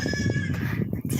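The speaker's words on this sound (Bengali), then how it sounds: "ছাগল ডাকছে" A young goat bleats nearby, a wavering nasal call repeated in short pulses, fairly loud against faint background noise.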